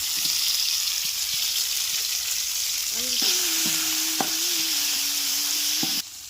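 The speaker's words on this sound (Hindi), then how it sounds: "एबे सेथिरे हमर कंचा लंका पड़ीला और तापरे पड़ीला टमाटो" Onions, green chilies and tomatoes frying in a pan, a steady close sizzle with occasional stirring clinks and a faint tonal hum, continuous throughout.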